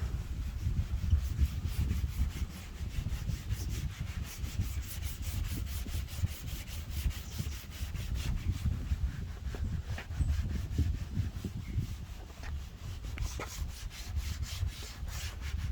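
Steady rhythmic rasping of sandpaper rubbed back and forth over the bodywork of a Peugeot 207cc, continuous strokes close up with no talking.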